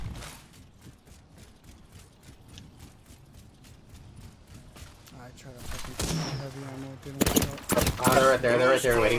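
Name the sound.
gunfire in a video game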